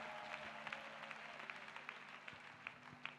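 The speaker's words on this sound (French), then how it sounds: "Clap for Jesus." A church congregation claps together in praise, a faint, distant, dense patter of applause running steadily throughout.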